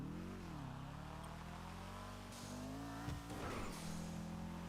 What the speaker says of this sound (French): On monte dans cette voiture